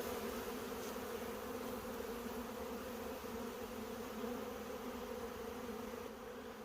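A swarm of honey bees hums in a dense, unbroken drone that stays loud and close throughout, with no voices.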